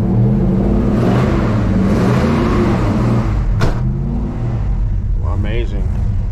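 A vehicle engine firing up after months unused and revving, a loud, close, steady rumble that rises in pitch, with someone talking over it.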